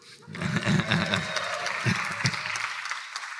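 Audience applause at a Creative Economy Report panel event at Otis College of Art and Design, a steady round of clapping from a crowd of moderate size, fairly near and sustained for a few seconds before tapering slightly.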